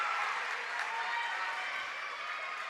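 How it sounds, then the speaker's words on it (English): A crowd at a district volleyball game cheers and applauds continuously, a dense, somewhat distant wash of clapping and shouting that stays steady throughout. "this Spirit crowd is going crazy"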